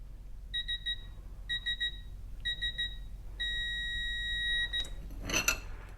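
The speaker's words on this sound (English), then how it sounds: "The Quinn Digital Torque Adapter will start alerting a little bit before there" A Quinn digital torque adapter beeps as a fastener is tightened toward 150 foot-pounds: three short chirping bursts, then one long continuous tone, ending in a sharp click and clatter. No one speaks.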